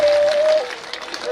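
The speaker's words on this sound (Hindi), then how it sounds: "ये दोई के लिए तो एक बार बड़ी जोरदार तालियां बजाइए" A crowd claps together at a Bhagavat Katha held at the Kishangarh Balaji temple. The clapping is brief and fairly loud, with a sustained steady tone running beneath it before the claps thin out.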